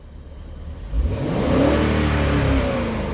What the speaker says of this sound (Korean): 엔진 회전수 어떻습니까? 자, 올라가죠.